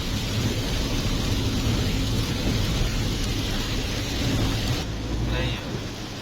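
Monsoon-season rain at Kartarpur falls as a steady dense hiss with low rumbling underneath, loud and continuous throughout, easing slightly near the end.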